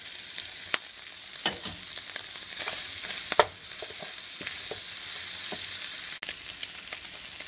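Vegetables and egg stir-frying for spicy Indo-Chinese hakka noodles: a bright, constant sizzle with frequent clattering strokes of a spatula tossing the food in the pan.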